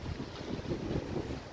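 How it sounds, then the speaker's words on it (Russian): Strong, gusty wind roars across the microphone during rain in a new park in Tashkent, a loud, steady, broadband rush with no voices. "Такой сильный ветер."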